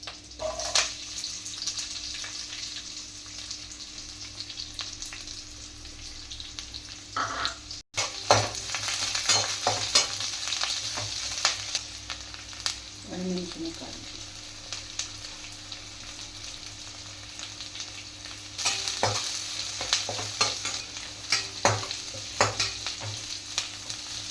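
Onion and curry leaves fry in a pan with a continuous sizzle, frequent stirring scrapes and utensil knocks, and a brief pause partway through before the crackling resumes louder.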